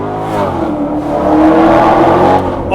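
A Maserati V8 car engine revs hard while driving, a loud, sustained harmonic roar that builds and holds steady, heard close and alone with no talking.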